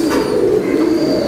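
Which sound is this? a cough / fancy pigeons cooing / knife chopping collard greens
fancy pigeons cooing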